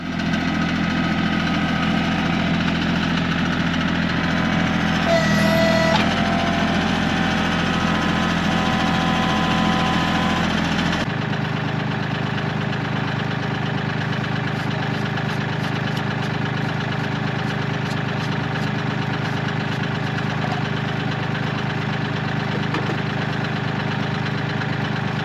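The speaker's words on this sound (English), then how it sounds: "we're gonna go ahead and hop on the tractor and get the firewood processor set up" A tractor engine idles steadily and loudly throughout, a low rumbling drone with a brief clunk partway through and a slight shift in tone midway.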